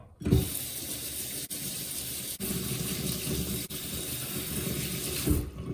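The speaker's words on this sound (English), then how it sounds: "let's start with getting our water up to temperature and then rinsing the cast iron skillet with pure warm water" Warm water running from a kitchen tap in a steady, continuous stream while heating up for rinsing a cast iron skillet, with a few brief clicks and splashes over it.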